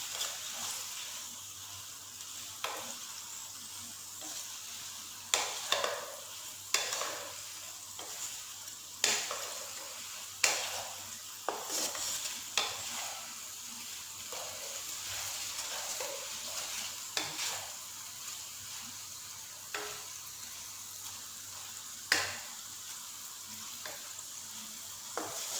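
Spicy masala-coated potatoes fry in a pan, a soft, steady sizzle punctuated by sharp intermittent clacks of stirring, fairly quiet and close, with nobody speaking.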